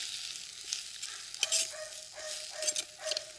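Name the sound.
tomatoes sautéing in a pan for dried fish curry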